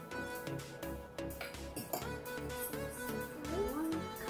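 A spoon clinks and scrapes against a bowl while blueberry muffin batter is mixed at home, the light taps irregular and close, set over steady background music.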